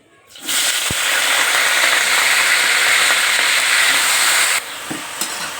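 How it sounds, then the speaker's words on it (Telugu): Brinjal pieces fry in hot oil in a kadai, a loud dense sizzle that bursts in after a short pause and holds steady for several seconds before dropping away, with a stray clink. "వంకాయలు వేగుతున్నాయి కదా ఇంకా బాగా మగ్గాలి"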